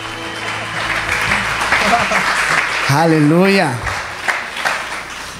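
A church congregation applauds loudly in a close, noisy room while a voice rises over the clapping in a drawn-out shout of praise, and the applause thins out toward the end.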